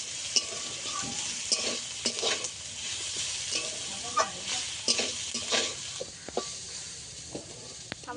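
Ridge gourd peels frying in a pan while being stirred, a soft continuous sizzle broken by repeated scraping stirs of the spatula at an irregular rhythm, close and fairly quiet.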